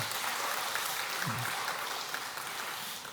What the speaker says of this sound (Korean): 우리 다 같이 박수로 크게 격려하겠습니다